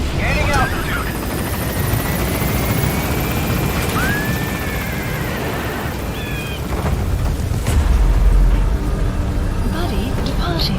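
Extraction helicopter climbing away in Metal Gear Solid V: The Phantom Pain, a steady rotor roar filling the whole stretch with a brief heavier swell near the end, under game effects and a radio voice.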